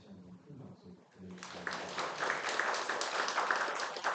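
An audience at a weekend temple gathering breaks into applause for a professor, starting after a short stretch of speech and swelling into dense, sustained clapping that carries to the end.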